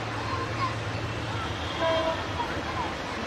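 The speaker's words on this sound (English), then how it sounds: "Look at the train, man!" A crowded passenger train rumbles past nearby with a steady, loud rolling drone and faint high squeals, while excited voices are heard over it.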